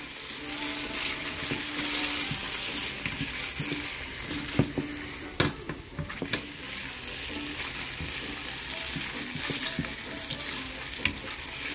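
Big sausages sizzle and hiss steadily in a pan, with occasional clacks and scrapes of a utensil as they are stirred, the frying noise continuous and close.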